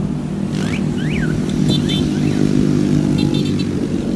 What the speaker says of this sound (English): It gets noisy on this road at certain points because of the lights